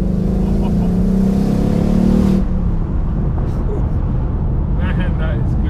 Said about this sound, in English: when you get to hear that engine, when you get to hear that, how can you not like it?